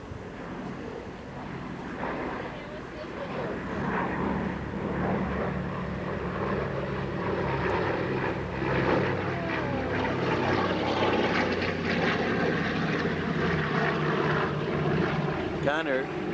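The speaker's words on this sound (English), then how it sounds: "here comes the plane" A propeller airplane flies past at an airshow, its engine drone swelling and fading over several seconds outdoors, with crowd noise and someone speaking over it.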